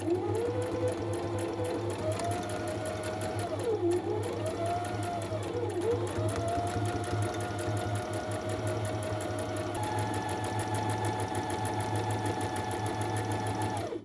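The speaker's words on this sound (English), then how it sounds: "For this part, I prefer to just go with the straight stitching, or maybe a little bit of zigzag." A sewing machine runs steadily and close, straight and zigzag stitching a bookmark made from fabric scraps and paper bag, its motor hum holding a continuous whir with brief dips in pitch and no talking.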